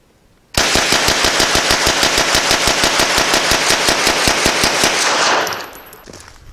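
A sport replica MP40 or Sturmgewehr 44 fires one long automatic burst, rapid, evenly spaced shots hammering close and loud for about five seconds before cutting off, with no talking.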